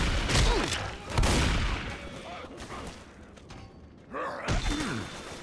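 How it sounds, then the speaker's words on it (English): Left 4 Dead 2 gameplay gunfire comes in several heavy bursts and thuds at irregular intervals, with players talking over and between the shots. "Ben, quit shooting me."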